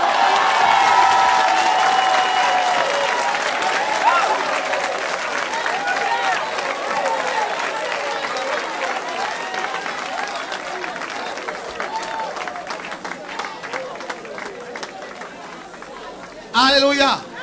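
A church congregation applauds and cheers, a loud sustained wash of clapping, shouts and chatter that slowly thins over many seconds, with voices mixed throughout.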